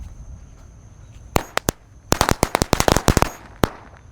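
A pack of Corsair lighter firecrackers goes off in a quick, irregular string of sharp, loud cracks, a few isolated pops first, then a rapid burst, and one last bang.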